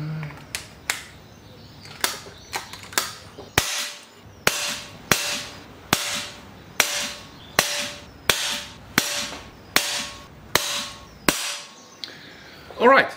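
A Daystate Pulsar air rifle fires .22 (5.5mm) pellets during ballistic testing, about ten sharp, close cracks at a steady rhythm roughly a second apart, each with a short ringing tail.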